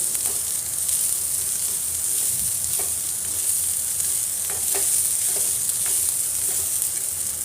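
Garlic sautés in a pan of oil for a tamarind kuzhambu, a steady, bright hiss of sizzling running throughout, with soft scrapes and taps from stirring scattered through it.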